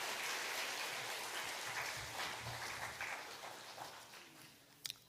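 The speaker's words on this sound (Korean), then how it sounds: "박수 한번 하겠습니다." Church congregation at an Easter Sunday service claps together in a soft, steady patter of many hands that gradually thins out, with a couple of sharp knocks near the end.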